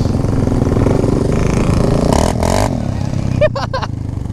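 A Suzuki GS500 motorcycle engine drones steadily at close range, swelling briefly as the revs rise, then gives a couple of sharp blips near the end, with people talking underneath.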